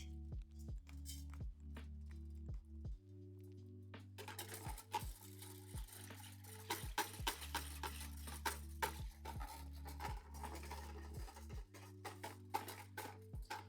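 Tall Cambro container holding turkey brine being whisked to dissolve flavorings, a steady run of quick sloshing, clinking strokes close up, growing busier and wetter after the first few seconds, with no talk.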